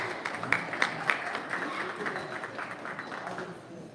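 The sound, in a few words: audience applause at a stock show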